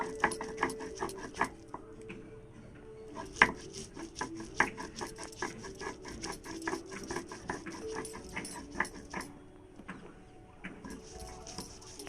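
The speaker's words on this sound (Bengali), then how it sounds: "ভালো করে বেটে নেব" Spices ground dry into a paste on a flat stone slab with a stone grinder, without water: close, steady rhythmic scraping and knocking strokes that repeat throughout, with no talking.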